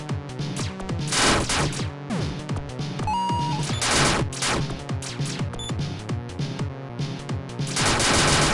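Rapid bursts of blaster fire from the Buster weapon in the game Rockbot, repeated shots layered over busy chiptune music with occasional pickup chimes, loud and continuous.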